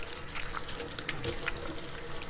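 Running tap water pours steadily into a sink as hands are washed beneath it, a continuous close splashing rush with small irregular spatters.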